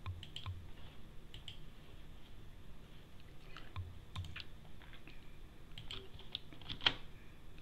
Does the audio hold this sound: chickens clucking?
no